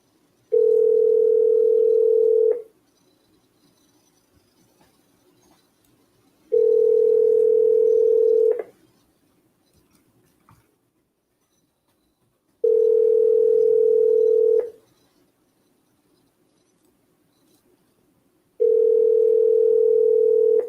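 Telephone dial tone on a cold call, a steady loud tone repeating in four bursts of about two seconds each with quiet gaps between them.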